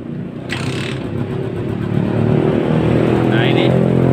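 A Yamaha Jupiter MX motorcycle engine with an overheating fault catches and settles into a steady, rumbling idle, close by, with a brief higher whine partway through.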